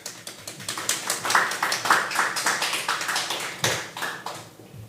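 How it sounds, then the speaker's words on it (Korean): A church congregation at Sunday worship claps steadily to welcome a speaker, a modest, fairly quiet round of hand claps with a loose rhythm that gradually thins out. "우리 박수로 환영하겠습니다"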